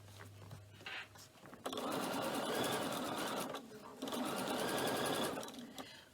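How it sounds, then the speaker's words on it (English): A sewing machine runs in two long, steady bursts of rapid stitching through a cork messenger bag, separated by a short pause, with quiet talk before it starts. "Stitch all the way around."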